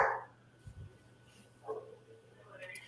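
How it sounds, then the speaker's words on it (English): A dog barks a few short, distant times in the background while a person talks nearby, the barks faint and sporadic under the voice. "the dog said yes in the background"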